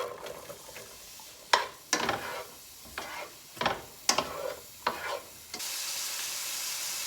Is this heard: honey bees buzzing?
no